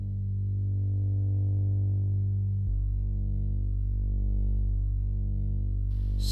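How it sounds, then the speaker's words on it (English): A Moog Sub 37 synthesizer plays a slow, warm bass melody: deep sustained legato notes gliding from one pitch to the next, loud and steady, with a brief higher burst at the very end. "dialed in a matter of seconds just some big warm bass sound"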